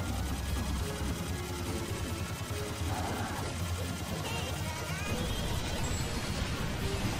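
Rapid, steady machine gun fire from the Serious Sam 2 video game rattles on continuously, a dense mechanical buzz under game noise and faint talk.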